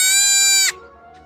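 A goat gives one loud, nasal bleat lasting well over half a second, then cuts off sharply, leaving only a faint low background.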